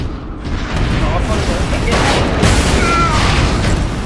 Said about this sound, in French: Je vais mettre une rafale dans les flak.